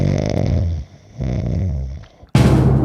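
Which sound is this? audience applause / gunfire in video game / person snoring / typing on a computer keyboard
person snoring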